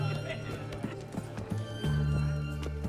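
Horse hooves clip-clop in the Witcher 3 game: a run of rhythmic hoofbeats over a low steady drone and game ambience, with voices talking across the steps.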